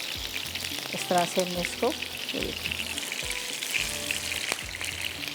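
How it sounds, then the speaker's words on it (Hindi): Peshawari kebabs frying in a pan, a steady close sizzle with some stirring and light scraping, heard under a voice speaking briefly. "थोड़े से कबाब हम फ्राई करते हैं"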